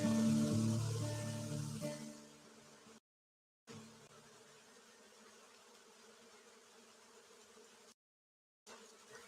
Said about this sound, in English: just an entire colony of bees creating some type of amazing magnetic force field around this tree